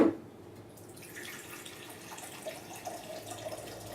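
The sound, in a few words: water poured into cold brew coffee maker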